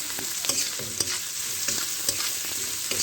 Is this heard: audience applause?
no